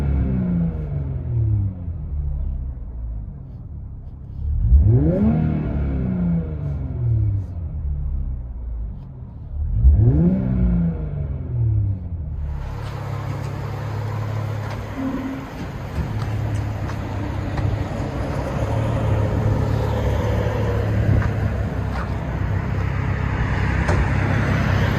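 Infiniti Q50S exhaust from inside the cabin: two deep rising revs with falling drone, then a sustained steady engine rumble with road noise.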